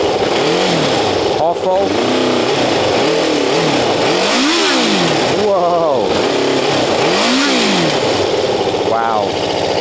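An old Kawasaki ZL600 motorcycle engine, unused for a while, revving up and down repeatedly from a throttle blipped by hand, close and loud with rising and falling pitch, while someone talks over it.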